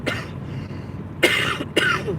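Two close, hoarse coughs about half a second apart, from someone recovering from illness while sitting in a car, following a quiet stretch with a little breathing.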